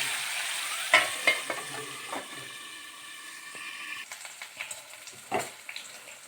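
Drumstick vegetable fries in a covered pan for a mustard chorchori, with a steady close sizzle and hiss broken by several clattering stirs and scrapes.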